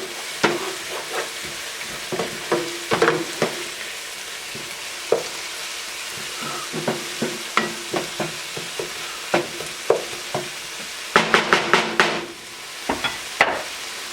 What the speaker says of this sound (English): we're just going to mix this in until that balsamic evaporates